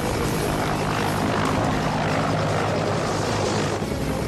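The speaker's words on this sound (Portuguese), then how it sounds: "há um helicóptero não identificado voando na zona de resgate" A helicopter flies close over a rescue zone, its engine and rotor making a loud, continuous whirring roar that stays steady from start to end.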